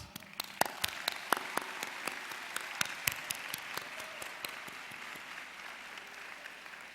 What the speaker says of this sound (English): Graduates, please join me in applauding these special people